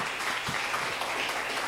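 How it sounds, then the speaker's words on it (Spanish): Brief, steady applause from a church congregation during a Spanish-language sermon, a diffuse wash of clapping heard at moderate level with no voices over it. "Pídele fuerte aplauso al Señor."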